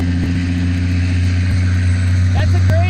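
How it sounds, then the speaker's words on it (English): A grain truck rumbles past with a steady, loud low engine drone, heard from nearby, with faint clicks and brief tones over the top. "That's a grain truck."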